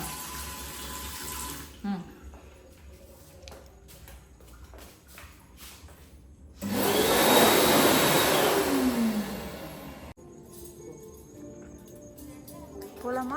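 A tap runs for a few seconds in a loud, close gush of water, set among quieter household clatter, with people talking before and after.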